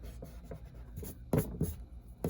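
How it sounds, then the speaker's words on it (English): A pencil sketches on paper in short, uneven scratching strokes, quiet and close, with a few firmer strokes toward the end and no speech. "Well, I'm just sketching"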